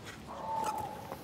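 A startled dog gives a single thin, high whimper lasting under a second, fairly faint against background noise.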